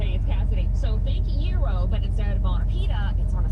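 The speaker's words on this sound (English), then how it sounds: "Turn the key and it fires right up. It idles exactly where it's supposed to." A car engine runs at a steady idle with a continuous low rumble, and a voice or wavering tones sit over it throughout.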